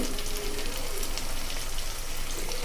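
Turkey berries (sundakkai) fry in hot oil for a vatha kulambu, giving a steady, close crackling sizzle like light rain that holds evenly throughout with no voices.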